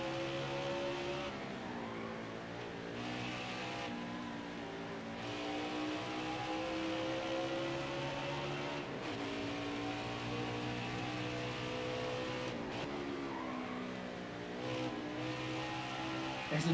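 A stock car in the NASCAR Heat 5 video game drones steadily at high revs with a pulsing engine tone and occasional shifts and brief tyre squeals, at a low, even level throughout.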